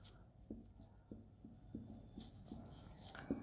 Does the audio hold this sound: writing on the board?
yes